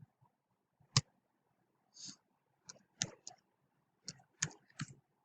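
Several separate clicks on a computer keyboard while a command is typed at a command prompt, sparse and irregular, close and fairly quiet with no talk.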